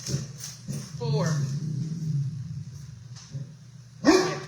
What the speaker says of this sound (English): I shall go and get Carlene's dogs back.